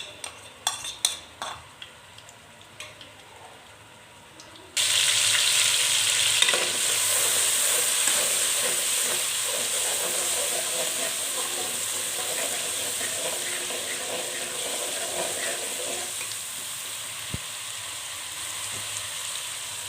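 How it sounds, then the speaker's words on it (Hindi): Garlic pieces drop into hot oil in a wok and fry, a few light clinks followed by a sudden steady sizzle that continues evenly and fairly softly, with occasional stirring taps. "अब हम इसमें लहसुन के पीस डालेंगे। इसको 1 मिनट तक फ्राई कर लेंगे।"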